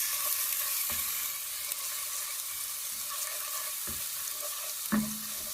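Garlic and ginger paste fries in two tablespoons of oil in a pan, giving a steady close sizzle with a few soft stirring knocks, no voices.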